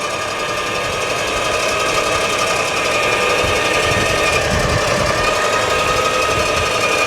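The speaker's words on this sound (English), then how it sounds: "the winch line's wrapping back on itself nicely" An electric winch on a 4x4 such as an FJ Cruiser, GX, 4Runner or Land Cruiser hauls in its line with the engine running, a loud continuous mechanical whir and rattle at close range, steady for seven seconds with no speech.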